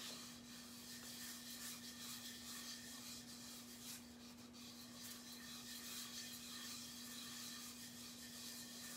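Chalk paste rubbed over a pumpkin cutout transfer with a steady, continuous scratchy rasping that stays faint and even throughout, with a low electrical hum underneath and no talking.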